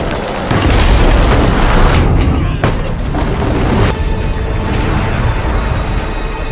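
Massive fiery explosion in a kung fu film, a loud booming blast that erupts early and rolls on with crackling debris and a second burst near the end.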